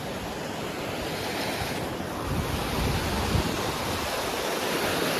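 A cold river rushing past, a broad continuous roar of flowing water mixed with wind buffeting the microphone, loud and close throughout, steady with a slight swell midway and no voices.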